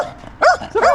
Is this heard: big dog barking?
yes